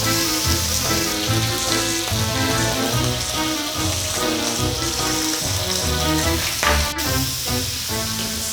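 Salted and peppered hearts sizzle in a very hot pan, a dense, continuous crackling spatter like heavy rain, loud and close throughout with no talking.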